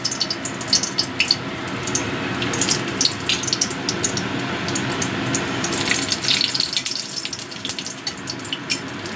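Four dried red chillies fry in hot oil, giving a dense, loud sizzle with sharp crackling pops scattered across it, steady for several seconds with no talk.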